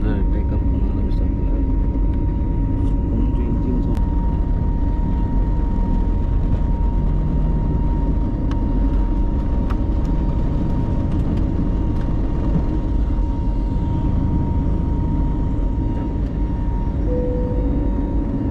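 Steady broadband roar of a passenger airplane starting its takeoff roll, loud and continuous throughout with a faint tonal whine above the rumble, heard from inside the cabin.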